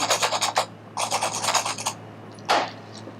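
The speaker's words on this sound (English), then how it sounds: "I'm just scraping some of that fur and underfur out on the ears" A dubbing scraper rasps fur and underfur from an animal's ears for fly tying, with two runs of quick rhythmic scraping strokes close up, then a single sharper scrape after a pause.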